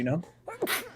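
A sneeze bursts out during a podcast conversation about Halloween movies, one sharp loud burst near the end of the second, with talking voices just before it.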